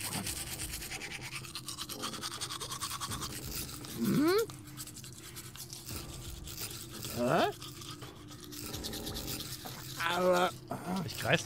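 Toothbrush scrubbing in the video game Deponia comes as short bristly scraping bursts repeated in rhythm over a game soundtrack, with someone talking between strokes.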